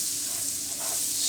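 Butter sizzles in a hot pan as browned fond is scraped up from the bottom, giving a steady bright frying hiss with a faint stirring scrape and no talk.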